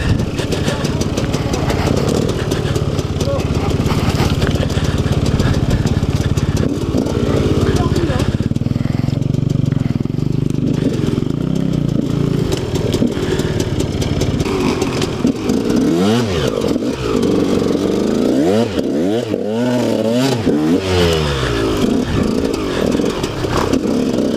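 A 125 SX enduro motorcycle rides slowly along a muddy trail, its engine idling and burbling loudly and steadily, with a few revs rising and falling near the end.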